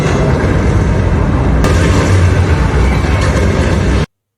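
A loud, sustained rumbling roar of an explosion inside an arena in a Hunger Games film, with a sharp burst partway through, then it cuts abruptly to silence.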